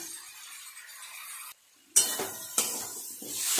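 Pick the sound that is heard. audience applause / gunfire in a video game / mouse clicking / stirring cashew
stirring cashew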